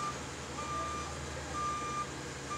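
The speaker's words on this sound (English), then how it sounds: "Now, the noisy dump truck reverses up." A dump truck backing up to a road-surfacing paver sounds its reversing alarm, steady evenly spaced electronic beeps over a constant low engine rumble, heard from a moderate distance.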